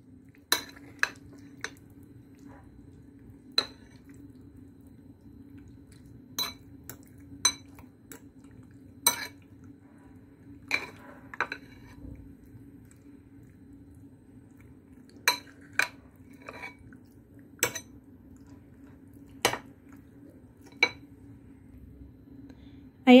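Marinated pork ribs with black beans are mixed in a bowl, giving sparse sharp clinks and taps of a utensil against the dish at irregular intervals over a quiet low hum.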